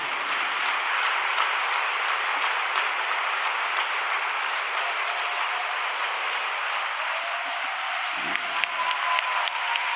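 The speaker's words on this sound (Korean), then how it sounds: "여러분 박수 한번 올려드립시다." A church congregation applauds in a dense, steady wash of clapping that holds evenly for about ten seconds without letting up.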